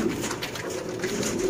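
Sialkoti pigeons coo close by in a short, soft, rolling burst, with no voices.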